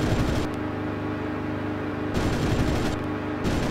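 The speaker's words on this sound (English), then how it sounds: "Bunch of bullets flying at you" Sustained bursts of machine gun fire aimed at a bomber in the IL-2 Sturmovik flight combat game, loud rattling volleys over a constant engine roar, briefly pausing then resuming.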